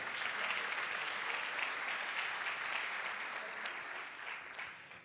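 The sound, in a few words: congregation applause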